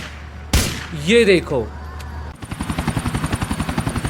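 Gunfire and a helicopter in the video game GTA IV: a sharp burst, then a steady rhythmic helicopter rotor thump that continues to the end, with someone speaking briefly over the start.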